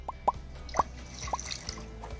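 Dark and light soy sauce poured into a pot for soy sauce chicken drumsticks, heard as three or four distinct liquid plops and drips spaced about half a second apart, close and fairly quiet against a low kitchen hum.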